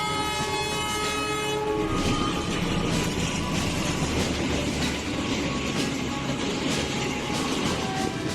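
A train horn blasts in a sustained, layered tone at the start, then the loud rumble and rattle of rolling wagons carries on steadily.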